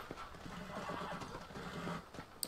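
Horse in Red Dead Redemption: Undead Nightmare whinnying and neighing, with hooves clip-clopping beneath, a steady mid-level game soundscape with no talk.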